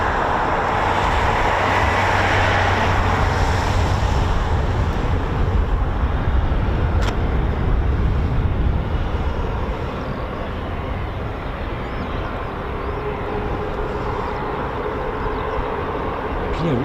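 Distant aircraft engines spool at RAF Mildenhall on a grim day: a broad, steady jet roar fills the air, rising slightly then easing, with wind rumble and no talking.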